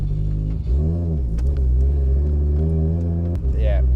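Toyota Supra with a worn, soft clutch driving along, a loud, continuous low engine drone and rumble with small shifts in pitch, heard from inside the car.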